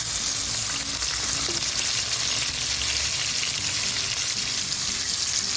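Onions frying in oil with whole spices, a steady dense sizzle running evenly throughout, close and fairly loud, with no talking.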